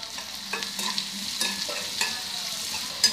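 Onions sautéing in oil with salt for a Tamil quail roast, a soft steady sizzle with rhythmic scrapes of a ladle stirring the pan.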